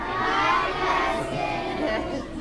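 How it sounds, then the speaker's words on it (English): A crowd of children at a reptile zoo show calls out together to a turtle, a dense, continuous burst of young voices shouting and cheering close by. "If you guys can all say hi to Placid and give her a nice big wave with both hands, absolutely everybody in the crowd"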